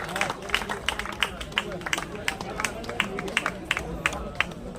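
An audience at a Haryana village gathering claps in scattered, irregular bursts of applause, with voices talking over it throughout.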